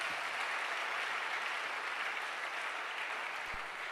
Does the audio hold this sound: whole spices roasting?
no